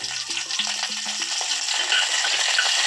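Green chillies and curry leaves sizzle in a pan for dhokla tempering, a bright continuous hiss with a few pops and a short tonal clatter from the pan early on, no talking.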